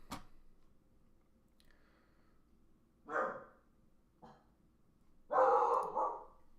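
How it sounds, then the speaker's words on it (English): A pet dog barks indoors in short separate bursts: a sharp bark at the start, a few more over the next seconds, and a louder double bark near the end, with quiet room tone between. "Sorry, my dog is going nuts."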